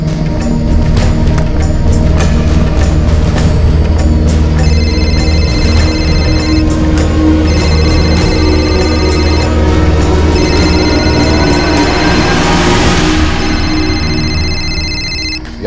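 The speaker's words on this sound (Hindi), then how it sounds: "रूबी, रेबेका को फोन लगा।" A telephone rings during an outgoing call in a crime drama scene. Repeating tonal ringing pulses run loud and close across the whole stretch, with little talk.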